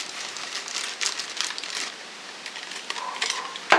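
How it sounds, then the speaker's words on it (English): Paper is cut with rough-edged craft scissors while trimming a journal page, giving soft crisp snips and papery crinkling in scattered bursts, close and fairly quiet, ending with a sharper snap. "I'm using my scissors that kind of have this rough cut texture to them"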